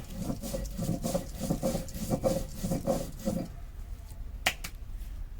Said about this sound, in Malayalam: ഉപ്പിട്ടിട്ട് നമുക്കൊന്നും കൂടി കൂട്ടി അരയ്ക്കാം.